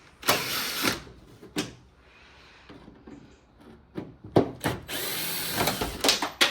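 Cordless power drill or impact driver removing screws from the bumper of a Vauxhall Astra J limited edition, a damaged salvage car: several short high-pitched whirring bursts with pauses, close and fairly loud, with light clatter between.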